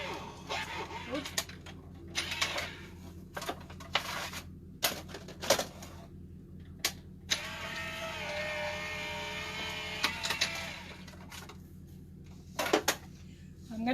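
Electric embossing machine running in a home craft setting, a steady mechanical whir with intermittent clicks and knocks, fairly close and alone.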